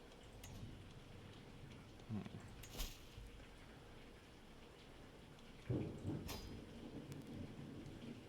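Heavy rain pours outside as a faint, steady hiss in the background, with a few low thunder rumbles and brief thumps rising near the middle and toward the end.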